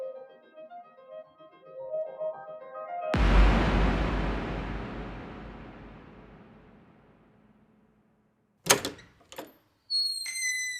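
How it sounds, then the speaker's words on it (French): Audio drama door-opening effect: a heavy, reverberant thud rolls out and fades over several seconds after a short musical phrase, then a few sharp latch-like clicks and bright high tones follow. "La porte s'ouvrit et un homme entra."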